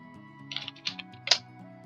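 Quick keystrokes clatter on a computer keyboard as code is typed, a short burst of close, crisp clicks in an uneven rhythm with no talking.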